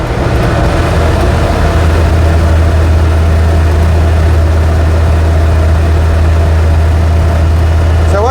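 An Invacar's engine running while the car is driven: a loud, steady, low droning hum that stays close and continuous throughout, with no clear talking.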